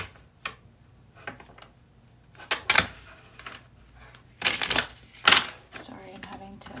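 A deck of tarot cards is shuffled over and over in irregular bursts of close, papery riffles and taps, with quiet gaps between them and no talking.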